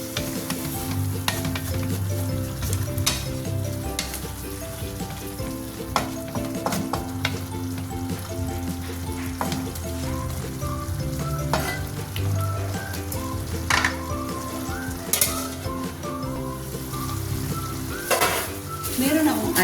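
Beef calderita sizzles steadily in a pan while being stirred, with scraping and clinking from the spoon running through a continuous close frying hiss.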